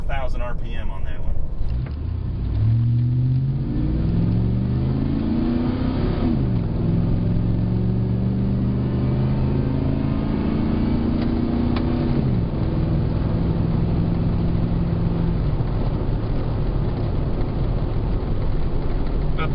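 A 5.3L Chevrolet Silverado pickup's V8 revs through its exhaust, climbing to near 4,000 RPM and falling back in two rising sweeps, a loud, steady drone that stays close throughout.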